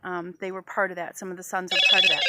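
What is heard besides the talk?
mobile phone ringing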